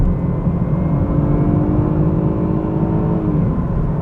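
A 2017 BMW 2 Series Coupe engine drones steadily at close range from inside the cabin, its pitch gliding as the automatic downshifts through fourth, third and second gears.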